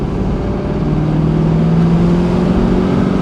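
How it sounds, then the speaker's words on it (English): Corvette with a manual gearbox, long tube headers and an aftermarket exhaust, running steadily with a smooth, moderate drone that gently rises in pitch, close and continuous with no talk. "Nice exhaust too. It's definitely not overbearing."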